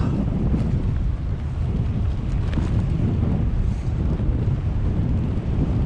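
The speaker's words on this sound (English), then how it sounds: "Still pretty windy." Loud, constant wind buffets the microphone while riding a fixed-gear bike in San Francisco, a heavy low rumble and roar with no voices, as if moving fast through open air.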